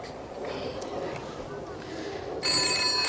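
A telephone rings in a 1980s British TV drama scene, with a bright, sustained electronic trill that cuts in sharply near the end. Before it starts, there is only a low murmur of room noise.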